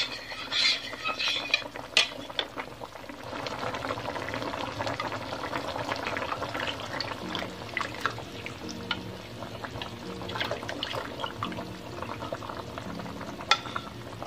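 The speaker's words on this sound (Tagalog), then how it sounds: "Hayaan muna natin siyang kumukulo na ganyan." Dinuguan, a pork blood stew with vinegar, bubbling steadily in a pot, with continuous soft crackling and simmering hiss throughout, close and moderately loud, no talking.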